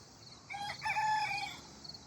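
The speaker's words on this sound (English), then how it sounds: "it sounded like a bunch of the chickens that we hatched earlier this year turned out to be roosters" A young bantam rooster on a small farm gives a single cock-a-doodle-doo crow from a short distance, heard alone over a quiet outdoor background.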